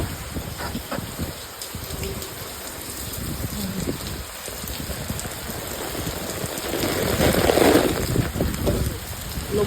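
Steady rain pouring down on Koh Phangan island, Thailand, during flooding, with a constant hiss, swelling louder toward the end as it falls harder, no voices present.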